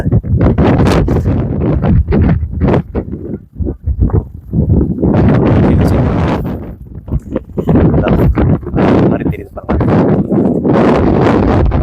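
Strong wind roars and buffets the microphone almost nonstop on the Pulmedu trekking trail to Sabarimala, with voices talking faintly beneath the gusts.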